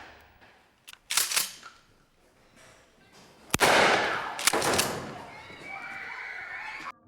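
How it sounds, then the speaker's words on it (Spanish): Gunfire during a school shooting scene in a Gus Van Sant film: a few sharp, loud cracks scattered across the stretch, with a longer burst in the middle and background noise and faint voices between them. "deciden rebelarse y disparan contra todo el que se ponga por delante"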